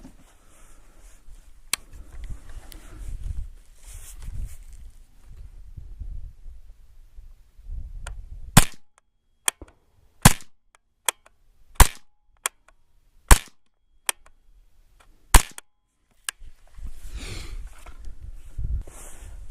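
A suppressed Griffin Armament Optimus Micro firearm fired indoors, about a dozen sharp, close cracks in an irregular sequence, with quiet rustling and handling before and after.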